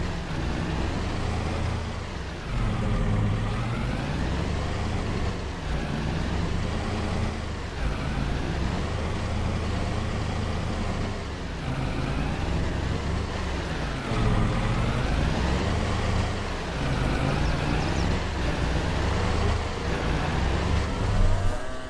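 Vehicle engine in Farming Simulator 22 near a farm in a village, a loud continuous rumbling drone that rises and falls repeatedly in pitch as it revs and shifts, with no talk over it.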